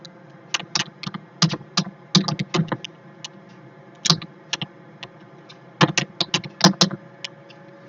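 Close, crisp typing on a computer keyboard while entering dummy data into a form, bursts of rapid clicking keystrokes separated by brief pauses, with no one speaking.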